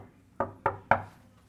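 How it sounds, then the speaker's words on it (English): Three sharp knocks on a hotel room door at a Paphos beach hotel, evenly spaced and fairly close in a quiet corridor. "Give him a knock."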